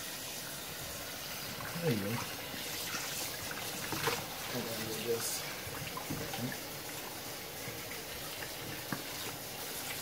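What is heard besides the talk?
tap water running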